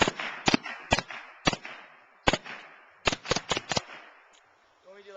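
Gunshots ring out in sharp, loud cracks, first spaced irregularly, then a quick burst of five in rapid succession, each with a short echoing tail outdoors, followed by quiet.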